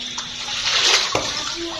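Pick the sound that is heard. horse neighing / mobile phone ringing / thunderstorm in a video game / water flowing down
water flowing down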